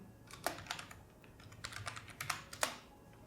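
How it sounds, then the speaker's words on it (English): A fastboot command being typed on a computer keyboard, a brisk irregular run of close, crisp keystrokes with short pauses between bursts, no voices. "let's just type fastboot devices again to see if it's detected"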